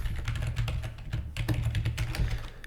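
Rapid, uneven keystrokes on a computer keyboard as Java code for reading user input is typed, close and clear, with short pauses between bursts and no talking.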